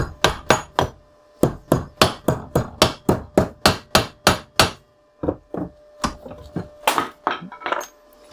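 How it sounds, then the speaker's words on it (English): A hammer knocks a half-clamped metal washer flat in a fast, steady rhythm, about a dozen sharp blows, then a pause and a few more scattered hits, loud and close. "Get a washer, clamp it halfway and knock it flat."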